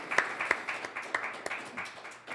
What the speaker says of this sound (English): Another round of applause for Marc Santos